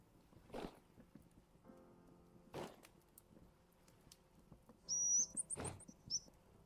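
A creature in the Vintage Story video game chirps in a few short, high, thin calls near the end, faint and sparse against quiet rustling and thumps.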